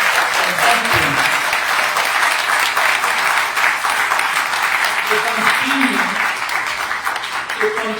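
Sustained audience applause for the President of Sierra Leone at a public event, a loud, dense wash of clapping that holds steady for the whole stretch with voices mixed in.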